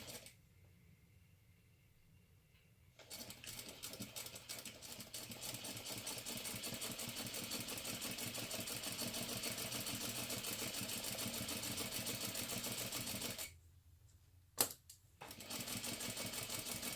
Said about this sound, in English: We are going to sew all the way around that rectangle